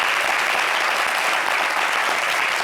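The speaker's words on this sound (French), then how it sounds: "on va applaudir pour Rosie" A studio audience applauds for Rosie on a fashion talk show, with steady dense clapping filling the whole stretch at moderate distance.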